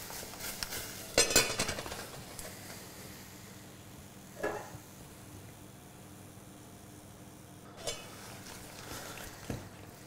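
A pan of cooking mussels for Thai green curry gets shaken, giving a few faint metallic clinks and rattles spaced apart over a steady hiss of heat and kitchen ventilation.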